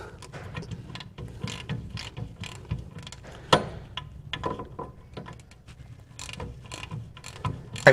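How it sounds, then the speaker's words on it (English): Ratchet turning a bolt on a 1972 VW Bus during ball joint and tie rod boot work, with steady rapid clicking in short bursts and metallic creaks, close and moderately loud. "I'm happy my ratchet fits in here."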